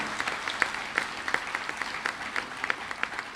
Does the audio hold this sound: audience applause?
yes